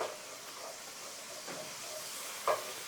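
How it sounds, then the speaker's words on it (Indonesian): Butter melts in a pan for squid in butter oyster sauce, giving a faint, steady hiss and sizzle with one brief pop near the end. "Okay, putting butter in there."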